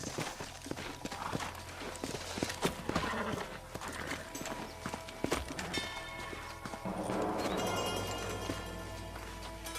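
Horses' hooves clatter at a trot among other game sounds in the video game Red Dead Redemption, with a brief whinny and a rising musical swell toward the end.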